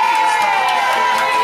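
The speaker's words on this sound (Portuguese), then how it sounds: "Palmas pra Mara." A crowd of guests at a birthday celebration cheers and applauds, a loud, dense and continuous wash of clapping and shouting voices that fills the whole moment.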